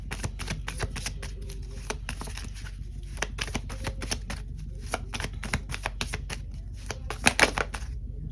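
Tarot cards are handled and shuffled in a continuous run of crisp, rapid riffles and flicks, close up, with a louder burst of snapping near the end.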